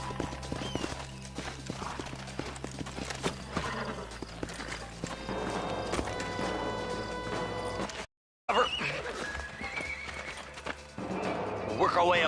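Horses whinny and hooves clip-clop in the Red Dead Redemption video game, with several neighs over steady hoofbeats and clatter, alongside game dialogue, a brief dropout midway and louder neighing near the end.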